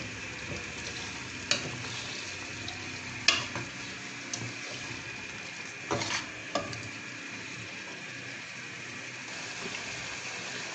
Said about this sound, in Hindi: इसमें 1 किलो आलू है, वो डालेंगे और इसको इस मसाले में तेज़ आंच पे 2 से 3 मिनट भूनेंगे।